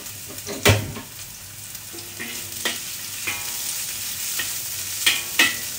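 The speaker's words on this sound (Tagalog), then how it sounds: "So, kailangan lagay natin itong sibuyas at saka garlic." Onion and garlic fry in hot oil in a pan for bihon noodles: a steady, close sizzle runs throughout, with several sharp spatula clinks and stirring scrapes at irregular intervals.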